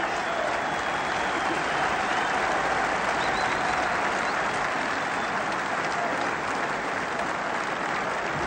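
A golf gallery at the 1977 Open Championship rises to applaud the champion, giving sustained loud, dense clapping from a large crowd for the whole stretch.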